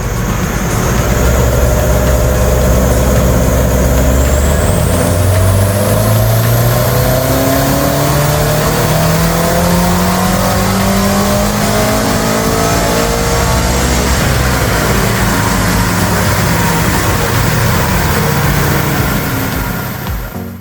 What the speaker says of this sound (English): Now it's time to put it onto our dyno and load up a custom tune to extract as much power out of the kit